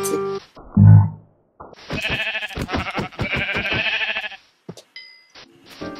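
Sheep in the game Minecraft bleat clearly, a low loud bleat followed by a long run of rapid bright clicking game effects and a brief chime, fairly near with quiet gaps.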